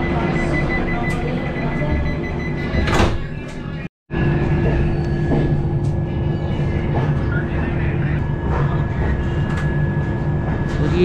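Agartala Tejas Rajdhani Express rumbling steadily along the rails just after leaving Anand Vihar, heard from inside the coach with a constant low roar, a brief dropout midway and a few faint voices in the background.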